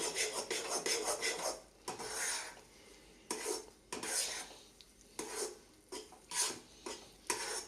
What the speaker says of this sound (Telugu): మళ్ళీ కలుపుతున్నాను.